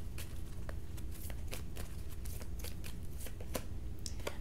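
A tarot card deck being shuffled up close, with repeated quick riffling bursts and soft card slaps at an uneven rhythm, with no talking.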